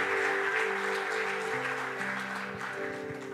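A church congregation applauds for God during a sermon, a steady wash of clapping from many hands that stays loud and even throughout.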